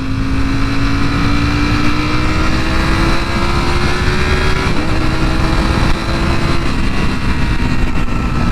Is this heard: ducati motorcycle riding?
yes